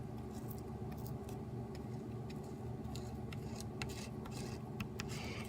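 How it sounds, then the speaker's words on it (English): A razor blade held at a steep angle scraping excess solder off a circuit board, making faint, close, uneven rasping strokes in short bursts over a steady low hum. "just kind of like scrape off the excess by having the razor at a higher angle"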